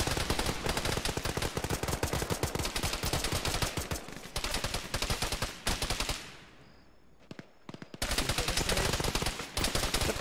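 Rapid automatic gunfire rattles out of a bunker in a military shooter game, loud dense bursts that stop for about two seconds of near silence, then start again at full intensity.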